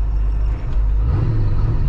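A 1978 Pontiac Trans Am engine keeps idling after a hard stop, giving a loud, steady low rumble that runs unbroken and close by throughout.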